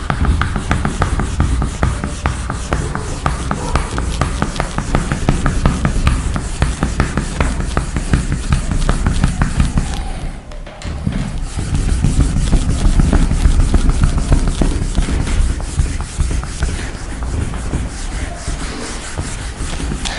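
An eraser rubs steadily across a classroom board during a Class 10 trigonometry lesson, a continuous scrubbing texture lasting about twenty seconds with a brief pause near the middle, close and fairly loud.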